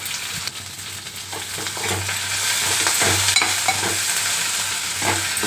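Sliced potato, onion, green chilies and curry leaves fry in a pan for a Telugu sanagala patoli, a steady broad sizzle broken by scraping stirs at regular intervals, close and fairly loud with no talking.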